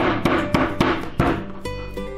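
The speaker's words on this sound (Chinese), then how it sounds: "切好的牛肉呢，用这个牛扒锤或者用刀背给它拍松一下" A meat mallet pounds sliced beef in several quick, heavy thuds, about four or five blows in a loose rhythm. The blows are close and loud, followed by a brief ringing tone.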